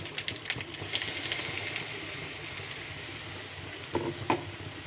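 Ground masala paste stir-frying in a pan, a steady close sizzle with occasional soft scrapes of a spoon through the paste.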